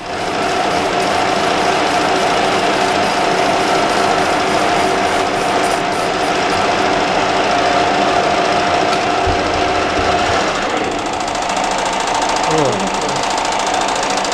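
A lathe turns down a rubber wheel in a workshop, with a steady loud mechanical whir and hum throughout as the cutter works the wheel, under a voice.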